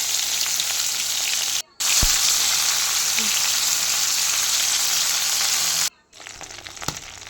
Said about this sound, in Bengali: এবার আমি চিংড়ি মাছগুলো একে একে এর মধ্যে ছেড়ে দিচ্ছি।